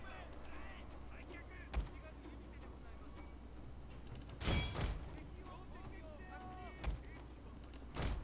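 Sharp shotgun blasts ring out over a steady soundtrack in the video game Shogun 2, a few spaced bursts and a double shot near the middle, with some background chatter.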